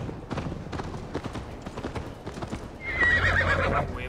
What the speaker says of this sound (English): Best not fall off your horse